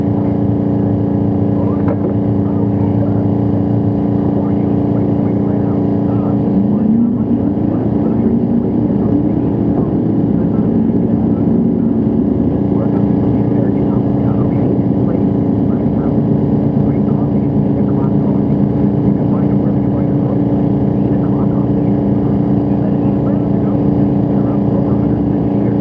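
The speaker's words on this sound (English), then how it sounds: "Pass 895 at 151 miles an hour for the good old 68 Hemi-powered Dart of Don Edelstein." A 1968 Hemi-powered Dodge Dart drag racing car makes a sustained loud engine roar at about 151 mph, a dense droning rumble that holds steady for the whole stretch.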